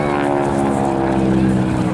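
A Boeing Stearman biplane performs wingwalking aerobatics at the Eastbourne Airshow 2024. Its radial engine and propeller give a steady, loud, rough drone through the whole stretch, with a commentator's voice running underneath.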